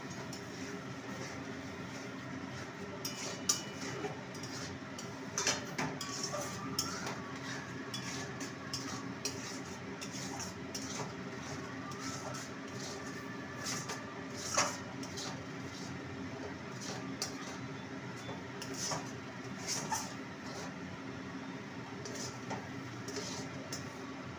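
Semolina and water being stirred into a stiff dough in a pan, with a steady scraping texture and scattered light clinks and knocks of utensil against metal throughout.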